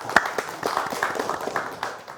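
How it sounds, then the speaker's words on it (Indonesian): Scattered clapping from a small audience at an event, with uneven individual claps, a sharp near clap at the start, then a loose patter that tapers off. "tepuk tangan yang meriah sekali lagi"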